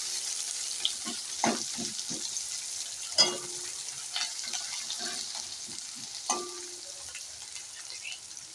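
Onion frying in a pan makes a steady, bright sizzle throughout, broken by scattered scraping clicks and taps as a spatula stirs the pieces close by, with no voices.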